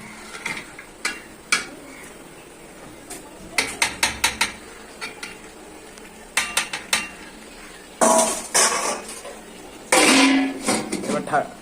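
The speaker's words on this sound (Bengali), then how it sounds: "এবার এটাকে কষানো হচ্ছে" Meat and potato curry being sautéed in a pot, with a spoon repeatedly scraping and clanking against the metal in irregular bursts, nearby and fairly loud, while a person talks throughout.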